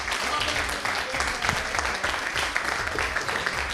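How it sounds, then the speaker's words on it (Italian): A crowd claps steadily for a third-place finisher at an awards announcement, the dense, loud applause holding evenly throughout with no talk over it. "Patrick, un applauso."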